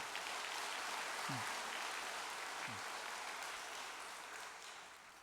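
Audience applause of encouragement at a Korean gathering, a sustained even clapping that slowly fades toward the end, with a couple of brief low tones underneath.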